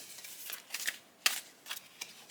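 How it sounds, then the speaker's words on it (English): Everyday Witch tarot cards riffle shuffled, a few soft brushing flicks and one sharper snap, quiet and close against faint hiss. "the riffle shuffle"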